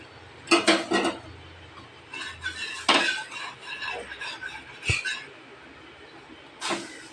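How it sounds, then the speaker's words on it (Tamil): Pieces of egg adai are cut and dropped into curry in a pot, heard as scattered close clinks and scrapes of a metal utensil against the pot, some knocks sharp and some muffled, with a few pauses between them. "இப்போ நம்ம வந்து அடையை கட் பண்ணி போடணும்"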